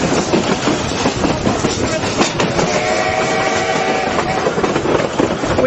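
Durango and Silverton narrow-gauge railroad train rumbling steadily along the track near Hermosa, with faint rhythmic wheel clatter and a brief tonal squeal or whistle in the middle, continuous and fairly close.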